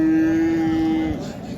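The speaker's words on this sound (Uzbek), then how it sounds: "1 oylik buzoqchasi." A one-month-old calf at the Qarshi cattle market lets out a single loud, close, steady moo lasting about a second, then the call fades into background noise.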